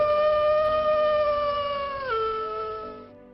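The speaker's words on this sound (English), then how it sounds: "The howling was frightening, but it was also sad." A single long, mournful howl sits close and clear, holding steady before dropping in pitch and fading away, with nothing else heard.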